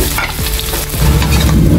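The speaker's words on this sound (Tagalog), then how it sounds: "Lagyan natin guys yung bawang. Sunod natin guys yung sibuyas." Garlic and onion sautéing in a pan for ginataang suso, a loud close crackling sizzle with rough scraping stirs and low rumbling, steady throughout the short stretch.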